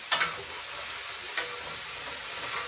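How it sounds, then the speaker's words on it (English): Ground beef fries in a pan, a steady broadband sizzle with a couple of brief scraping stirs from a spatula near the start and again midway, close and moderately loud, with no talking. "I just want to cook the ground beef down really good."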